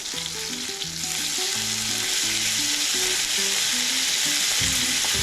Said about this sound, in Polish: Szalotki zaczynają się smażyć. Dołożymy teraz boczek wędzony na zimno, pocięty w grube kawałki, w grube paski.